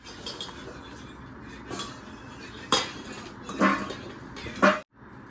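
Mango pieces being stirred into spiced mango pickle mix in a metal vessel, with clinks and scrapes of a spoon against the pot, a few louder knocks near the end, no talk.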